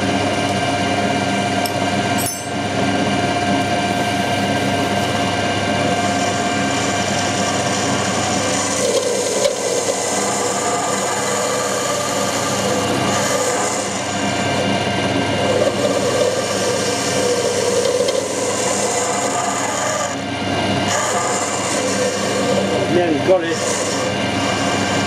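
SNNC 72 P3 ball turner cutting metal on a lathe running at 1000 RPM, a steady broadband machining whir and hiss with constant tonal hum, continuous throughout with occasional scraping bursts.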